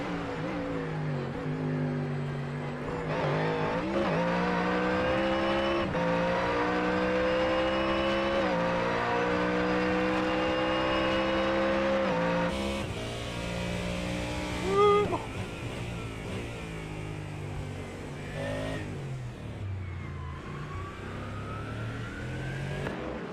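A GT3 Mustang race car in a sim racing game, its engine droning loud and steady with rising and falling pitch through upshifts and downshifts, one sharp bump midway, and other cars faintly audible around it.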